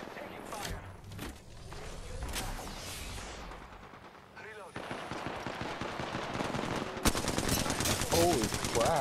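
Rapid automatic gunfire in Apex Legends arena combat, dense bursts of shots building into a sustained fusillade in the second half, with players talking over the action.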